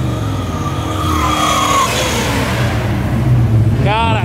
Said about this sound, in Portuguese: que animal esses dois carros andando